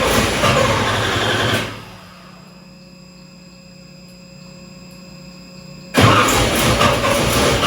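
An LT1 Corvette on a dyno: a loud mechanical roar cuts off into a quiet hum with steady whine tones, then the engine abruptly catches and starts up again with a loud, close rumble.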